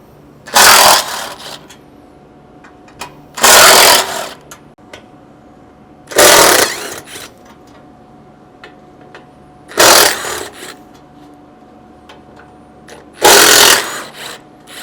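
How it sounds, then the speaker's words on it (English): Five separate bursts from a power tool driving a T40 Torx bit, each about a second long, removing bolts from a Ford Bronco winch plate. They are loud, close and evenly spaced, with near silence between them. "using your T40 Torx, you'll have 2 bolts here to remove"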